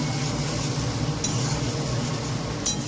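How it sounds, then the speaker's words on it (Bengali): Spice paste for a koi fish curry frying in plenty of oil over raised gas, a steady close sizzle with a couple of faint utensil clinks, no voices. "দিয়ে এবার মশলাটাকে কষিয়ে নেবো ভালো করে।"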